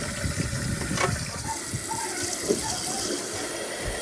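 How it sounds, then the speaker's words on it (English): Tap water running steadily while basmati rice is washed in a kitchen, a continuous close gush with faint splashes and swishing, with no talking. "Here's 3 cups of basmati rice that I'm going to be washing and soaking for at least 20 minutes."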